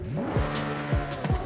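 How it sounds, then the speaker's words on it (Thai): Revving McLaren P1 hybrid V8 in Forza Horizon 5, a steady stock exhaust drone with three quick throttle blips rising and falling in pitch. "อันนี้เสียงท่อเดิมๆนะ"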